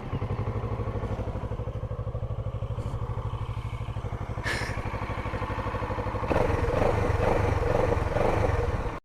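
A Kawasaki Z650 motorcycle engine runs close by, holding a steady rhythmic throb, then rising to a louder, rougher revving pitch near the end before cutting off.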